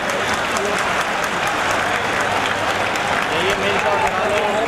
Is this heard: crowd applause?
yes